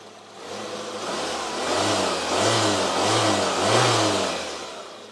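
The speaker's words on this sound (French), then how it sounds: "Ça tourne vraiment comme une horloge ces petits moteurs." Small car engine revved lightly during a water pump and drive belt check, a close mid-pitched hum rising and falling in several gentle pulses over a steady idle.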